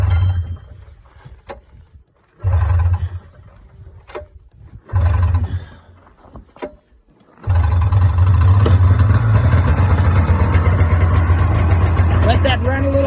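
A Polaris Indy Sport 488 snowmobile engine is pulled over several times in short sputtering bursts, then catches and settles into a loud, steady running idle with the choke on.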